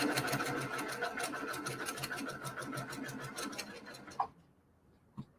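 A sewing machine stitches a quilt block across a seam with a rapid, even run of close stitches for about four seconds, then stops, leaving a couple of soft clicks in near silence.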